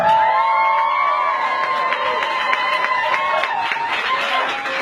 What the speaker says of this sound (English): Everyone, please give a big round of applause to ذوالفقار Ali Bhutto.